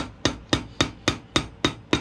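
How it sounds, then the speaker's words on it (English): A solid cast iron cobbler's hammer strikes a boot heel during an ostrich-leather boot resole, seven sharp, evenly spaced blows landing about every quarter second, loud and close with no talk. "I have to hit the back of the hammer on the end here because this thing likes to slide off"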